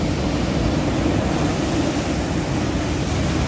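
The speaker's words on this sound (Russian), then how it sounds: "какая мощь этого моря, какая волна сильная" Powerful storm surf crashing on the Black Sea shore at Sochi, a dense, steady roar of breaking water that fills the whole stretch with no pauses or talk.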